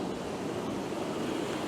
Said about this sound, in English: I'll get a combination of waves or surf coming up the beach